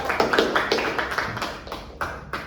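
A small group claps in a classroom for a teacher, a handful of distinct, fairly close hand claps, uneven and sparse, thinning out over a couple of seconds.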